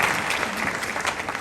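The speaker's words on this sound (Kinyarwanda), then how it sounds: "Tugukomeye amashyi menshi tumushimira." A church congregation gives a burst of loud, dense clapping that continues for the whole short moment, close and without pause.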